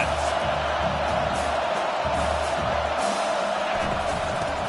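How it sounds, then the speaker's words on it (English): Football stadium crowd roaring on a fourth down, a loud, dense, continuous wash of cheering and yelling with scattered whoops rising above it. "this crowd is making it miserable on this offense"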